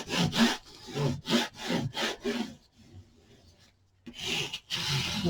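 A tool scrapes and rubs glue across embossed paper on a handmade mini album, several rhythmic strokes, a short quiet pause, then more rubbing, close and fairly soft.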